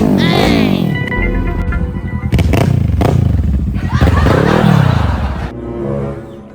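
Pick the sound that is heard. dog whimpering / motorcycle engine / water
motorcycle engine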